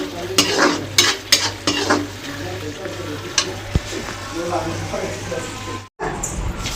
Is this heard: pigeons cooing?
no